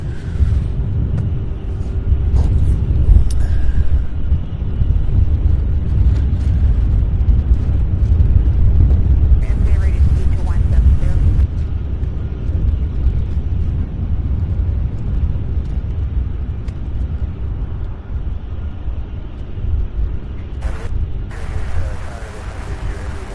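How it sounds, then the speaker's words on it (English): A UPS Boeing 747 cargo jet, about 30 years old, comes in to land, heard as a loud, steady low jet roar and rumble that holds throughout and eases slightly toward the end, with no talk. "All right, the Queen now coming in for a landing."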